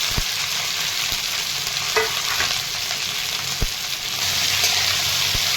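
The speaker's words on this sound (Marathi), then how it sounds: "तेलामध्ये लसूण टाकलेला आहे लसणामध्ये भेंडी टाकलेली आहे" Okra sizzles in hot oil with garlic, a close, steady frying hiss broken by a few sharp clicks of a spoon stirring against the pan, with no talking.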